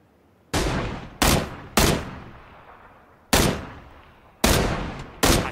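Six loud, separate gunshots from the video game PUBG ring out at irregular intervals, each a sharp crack trailing into a short decaying echo, with no talk over them.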